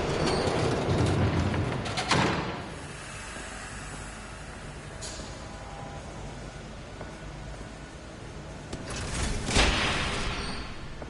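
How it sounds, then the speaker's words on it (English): A train rumbles past in the Batman Telltale video game, a steady rolling clatter with louder swells near the start and end and no talk. "There's a train coming."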